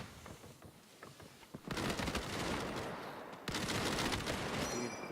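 Gewehr rifle fire from a Blitzkrieg video game match on the Coastal map comes in dense, loud bursts of gunfire over a noisy battle background.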